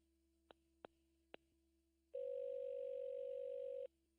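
Telephone line while placing a call: three quick, faint beeps spaced apart, then a steady electronic tone holding for under two seconds before cutting off, quiet and with no voices.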